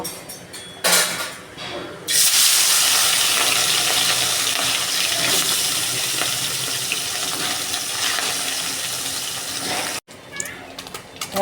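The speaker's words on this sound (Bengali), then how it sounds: "তেল গরম হয়ে গেছে এবার অল্প অল্প করে মাছ করে আমি ভেজে নেব" Fish pieces frying in hot oil in a wok give a loud, steady sizzle that flares suddenly and holds for several seconds, then cuts out briefly near the end.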